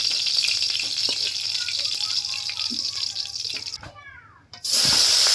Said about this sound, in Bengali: দুটো না তিনটে পাতাকে মা তেলে একটু ভেজে নিচ্ছে